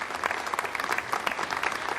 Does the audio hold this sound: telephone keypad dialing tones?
no